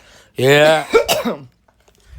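A person close by gags with a strained, voiced retch that breaks into a short cough, one brief loud burst followed by quiet.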